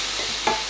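Chopped onion, garlic and carrots sizzle softly in olive oil in a pan, with a brief scrape of stirring in the middle of the steady frying hiss.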